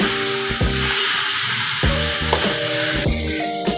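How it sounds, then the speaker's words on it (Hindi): Six or seven tomatoes with a spice masala fry in a pan for a stuffed bitter gourd and keema dish, sizzling loudly and steadily up close with occasional stirring clatter. "अभी हम इसे भी अच्छे से भून लेंगे।"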